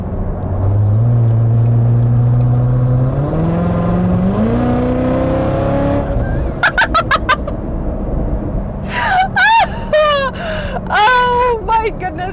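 A 2019 Corvette ZR1's supercharged V8 revs up loudly, its pitch rising in steps over several seconds before sharp blips and throttle stabs, with a person talking in the later part.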